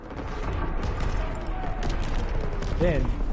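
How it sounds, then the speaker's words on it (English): Incoming enemy artillery in a Call of Duty WWII battle: a dense, steady roar of gunfire and explosions throughout, with a short voice cutting in near the end. "Incoming enemy artillery."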